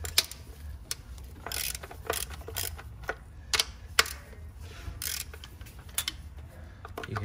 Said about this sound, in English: We're gonna use the long extension and the deep 12 socket, 3/8,